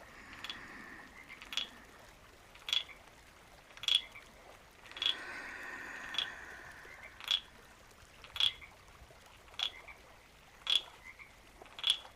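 Frogs croak in a steady series of sharp calls, about one every second, over a soft outdoor background with no voices.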